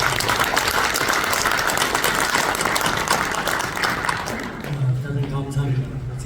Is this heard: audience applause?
yes